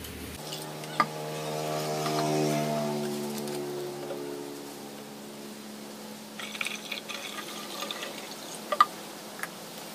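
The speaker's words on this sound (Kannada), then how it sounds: "ನಾ ಇದಕ್ಕೆ ಇವಾಗ ಎಕ್ಸ್ಟ್ರಾ ವಾಟರ್ನ ಇದ್ರೊಳಗಡೆ ಎಡಿಷನ್ ಮಾಡಾಕ್ತೀನಿ" Extra water pours into a container holding mosquito larvae, a steady close liquid stream with a shifting filling tone that fades into scattered drips and light knocks.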